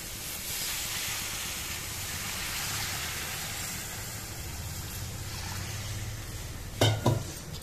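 Gravy poured onto fried masala in a hot pan while cooking suran (elephant foot yam) sabzi, giving a steady broad hiss and sizzle throughout, close, with a couple of brief clanks of a utensil near the end.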